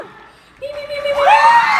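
An audience at a live Miranda Sings No Offense Tour comedy show in Indianapolis cheers and whoops, with the sound rising after a quiet start into a brief, loud swell of shouting voices.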